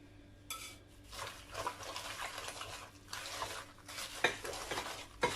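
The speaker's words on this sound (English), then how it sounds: "Now I'm going to use my whisk." A whisk beats an egg into a biscuit dough mixture in a bowl, giving soft wet swishing and stirring with occasional sharper taps against the bowl, close and quiet, with no voices.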